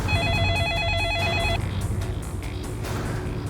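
A telephone rings with a warbling electronic trill for about a second and a half, then cuts off, leaving a dense wash of background music or noise.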